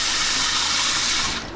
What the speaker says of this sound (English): So I put some water in there